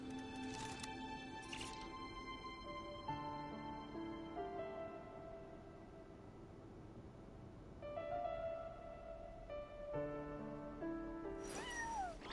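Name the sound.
cat meowing in Genshin Impact video game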